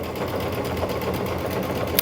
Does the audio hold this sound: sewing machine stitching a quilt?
yes